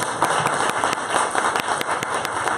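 A small studio audience claps in rhythmic bursts, sharp individual hand slaps repeating in a fairly steady pattern, close and moderately loud with no talking over them.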